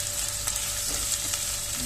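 Onions fry in hot oil with a loud, constant close sizzle and faint stirring scrapes while they are cooked toward brown.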